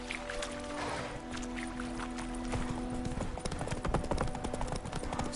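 A horse gallops in The Witcher 3 with rapid, rhythmic clip-clop hoofbeats that grow slightly louder, set against light ambient game sound.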